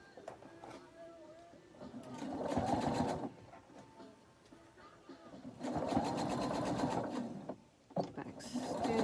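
A sewing machine stitches a fabric face mask with pleats, running in bursts of rapid mechanical whirring with quiet pauses between them, recorded close up in a home workspace.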